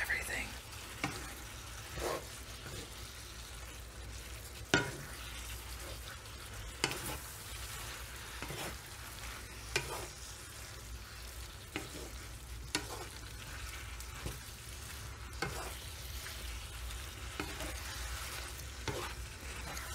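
Veggies, noodles and meat stir-fried in a thickening sauce, with a steady close sizzle and frequent soft stirring scrapes and taps throughout, no talking.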